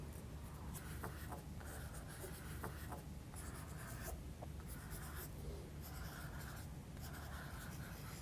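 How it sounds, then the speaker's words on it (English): Apple green coloured pencil scratching over damp textile, a steady close scraping with repeated short strokes and brief pauses, alone without talk. "I've also got an apple green pencil which I'm going to work in on top"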